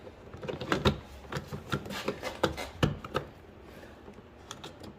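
A plastic handle bezel pressed into a Mazda RX-7 door panel, a run of quick close clicks and taps in an irregular rhythm, fairly quiet with no talk.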